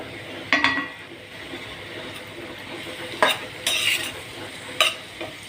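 Raw banana pieces with onions and chili powder being stirred in a frying pan, a spoon scraping and clinking against the metal in several sharp bursts over a steady sizzle.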